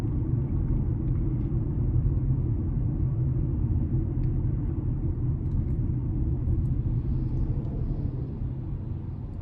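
Steady cabin rumble and road noise inside a 2025 Nissan Kicks S AWD with a CVT while driving, a dense, even low drone throughout with no voices.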